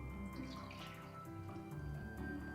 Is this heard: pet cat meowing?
no